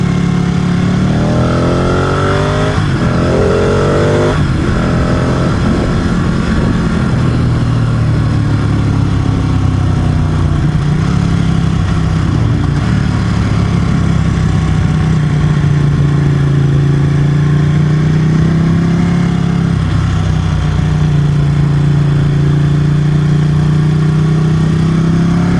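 A Ducati motorcycle exhaust rumbles close and loud, its revs rising and falling in repeated sweeps over a steady idle, with no talking.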